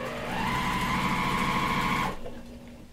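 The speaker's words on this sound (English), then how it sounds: "I'm going to sew on this first, and then I'm going to chain piece off the scrap piece of fabric" A sewing machine stitches quilting fabric in a steady, fast whirring run of about two seconds, then stops abruptly, leaving a quiet room.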